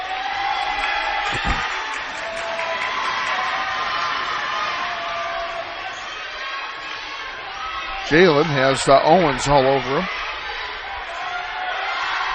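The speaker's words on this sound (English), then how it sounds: "The South High crowd is getting noisy for as small as they are" Small high school basketball crowd in a gym making a low steady murmur under a commentator's play-by-play, swelling into cheers with a loud whistle-like squeal near the end.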